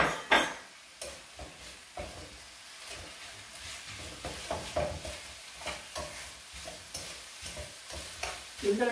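Onion sautés in meat juices in a pan, a steady soft sizzle broken by repeated scraping stirs and light clinks of a utensil against the pan.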